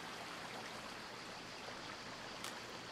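A small river stream in the video game A Plague Tale: Requiem rushes in a steady, dense wash of flowing water, heard alone for a few seconds.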